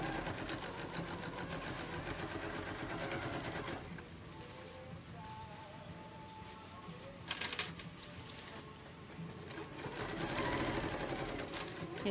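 A sewing machine stitches the final seam of a thermal plastic lunch bag with a rapid, steady mechanical whir. The pace slows briefly and then picks up again, with faint talk in the room underneath.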